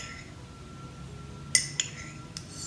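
A spoon clinks against glass jars of overnight oats while chia seeds are added, three or four sharp light taps near the end over a quiet room, with no talking.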